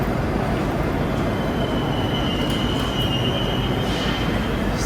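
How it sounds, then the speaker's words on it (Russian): Moscow metro trains pull into Sokolniki station, a loud constant rolling roar with a thin high wheel squeal stretching across the middle, filling the whole clip with no talk. "И как нам повезло, посмотрите, мы пришли. И сразу два поезда."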